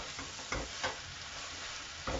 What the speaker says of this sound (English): I'm just going to stir them in.